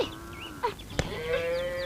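Cattle give a long, drawn-out lowing call near the end, with a sharp knock midway. There is no speech and a quiet background.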